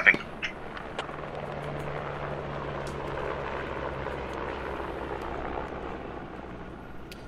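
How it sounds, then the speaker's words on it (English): A helicopter in the video game Squad takes off, a steady, droning engine hum with a low rotor-like drone holding evenly throughout, a sharp click at the very start. "Enemy helicopter just took off from refinery"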